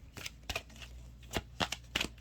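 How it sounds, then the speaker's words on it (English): Tarot and numerology cards are shuffled by hand in a quick run of crisp riffling bursts and soft slaps, close and fairly quiet, with no talk. "I'm just going to shuffle a numerology card"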